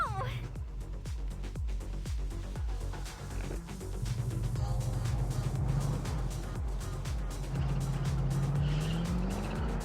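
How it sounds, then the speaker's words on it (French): A motorcycle rides in the video game Neverness to Everness, its engine droning and rising in pitch in two steady revving pushes, while a person talks over it. "là maintenant, on va tester avec la moto"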